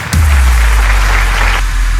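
An audience on a dance reality show stage bursts into loud, sustained applause as a contestant comes on, a close wash of clapping that starts abruptly and fades after about a second and a half.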